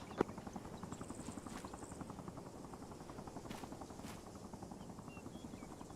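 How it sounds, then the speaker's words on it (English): A helicopter in a military video game, its rotor thudding in a fast, steady pulse throughout, moderately close, with a few faint sharp clicks and no speech. "That is one brave helicopter."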